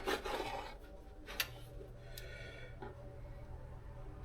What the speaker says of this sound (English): Cut that end off. Cut us a couple slices.